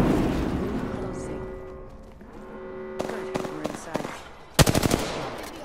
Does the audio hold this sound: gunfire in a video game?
yes